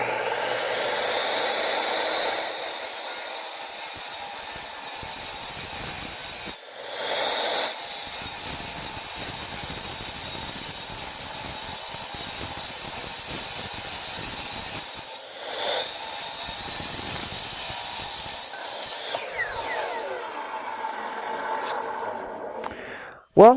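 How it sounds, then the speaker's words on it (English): A saw fitted with a fine-tooth blade cuts steadily for a long stretch, a loud rasping grind with two short breaks before it winds down and stops. "I've changed the blade to a much finer tooth blade, and we'll see how this cuts."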